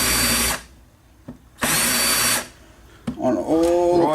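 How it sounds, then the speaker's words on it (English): Power drill countersinking dowel holes in a wooden frame: two loud whirring bursts with a quick spin-down between, close by, followed by a brief spoken voice. "you just put a countersink on all the holes."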